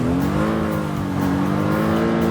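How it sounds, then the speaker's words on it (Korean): A video-game car engine drones loudly and steadily, its pitch dipping slightly then climbing again, with no voices over it. "차 소리. 정면."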